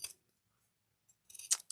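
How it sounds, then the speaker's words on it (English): Scissors make quick, quiet snips as they trim around the rounded edges of fabric for a cross-body bag. One isolated cut comes first, then a tight cluster of snips after a pause. "you can cut little snips around the rounded edges with"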